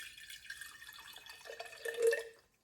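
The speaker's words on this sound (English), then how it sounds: "So what I'm going to do is add some filtered water in," Filtered water trickling and dripping into a container of water kefir grains, a light, close liquid pour with drips that swells into a fuller splash near the end.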